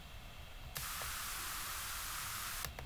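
A white noise effect triggered in VirtualDJ comes in as a sudden burst of bright, hissing static, holds steady for about two seconds, then cuts off over a faint low background hum.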